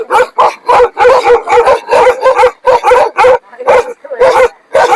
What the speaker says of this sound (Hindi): यहाँ पर इतने खतरनाक कुत्ते हैं, खतरनाक जालिम कुत्ते